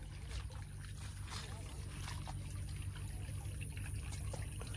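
A fishing boat out on open water, with a steady low engine drone and water washing against the hull throughout, and faint voices now and then underneath.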